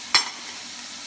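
Shrimp paste (bagoong) drops into a hot pan for a pork pinakbet, giving one sharp wet splat followed by a steady, bright sizzle that hisses on close by, with no talking.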